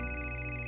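A mobile phone rings in a children's cartoon, a steady electronic ringtone tone sounding loud and close for a brief moment with no voices over it.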